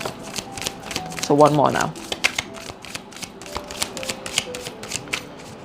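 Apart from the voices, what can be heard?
shuffling a deck of tarot cards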